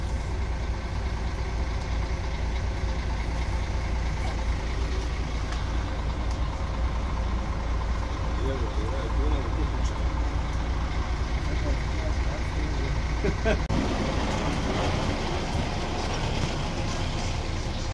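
An airport shuttle bus at Zagreb Airport rumbles steadily with a low engine drone and some shifting mechanical noise, heard from inside with a voice speaking over it.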